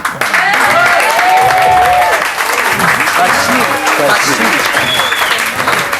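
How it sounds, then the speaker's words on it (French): A French television talk-show studio audience breaks into loud, sustained applause, with dense clapping throughout and voices mixed in underneath. "On les re-applaudit."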